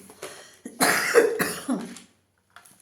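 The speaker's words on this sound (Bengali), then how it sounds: "আমার না এখনও কাশি হবে" A person coughs in several harsh bursts close by indoors, a few quick coughs followed by a pause and a fainter throat sound at the end.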